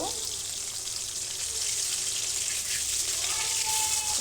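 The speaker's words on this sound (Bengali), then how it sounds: "যেহেতু মাছগুলো একটু বড় সাইজের, তাই আমি একটা একটা করে ভেজে নেব।" Large pomfret fish frying one at a time in hot oil, Bengali style, giving a steady, close sizzle that hisses without a break from start to finish, with no talk.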